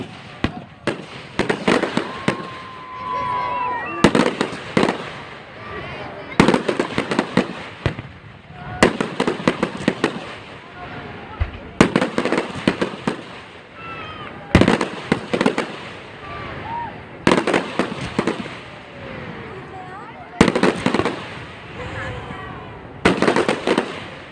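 Fireworks bursting at a 2016 display in Stockton, Illinois, sharp cracks and booms arriving in repeated clusters every few seconds, fairly loud and near, with people talking faintly between the bursts.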